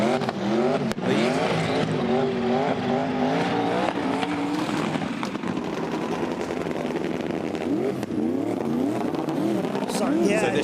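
Drift cars at the FIA Motorsport Games 2019 final on a damp track, engines revving and wailing through gear changes with tire squeal and sharp pops, close and loud beneath continuous commentary.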